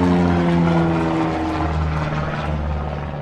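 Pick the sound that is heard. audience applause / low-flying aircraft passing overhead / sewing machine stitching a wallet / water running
low-flying aircraft passing overhead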